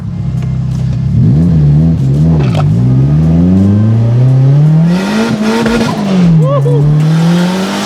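A Nissan 240SX engine revs and climbs under hard acceleration, loud and close, pitch rising and dipping through gear changes, with tire squeal and a brief excited shout from someone aboard.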